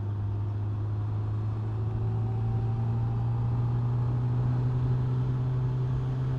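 A Honda CB1000R Neo Sports Cafe Racer's engine holds a steady, droning low hum as the throttle gently opens on a road ride, continuous and fairly loud with no voices.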